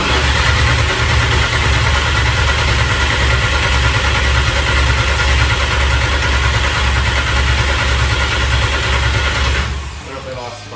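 A VW 2.5L five-cylinder engine swapped into an MK1 Rabbit idles loud and close in a steady, throbbing drone, then cuts out near the end.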